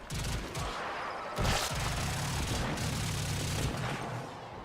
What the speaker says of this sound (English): Imperator Vandal shoots incredibly fast